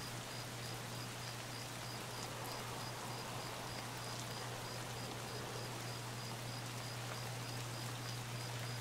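Light rain falls in the video game Escape From Tarkov, a soft, constant patter that stays even throughout, accompanied by a low steady hum and no talking.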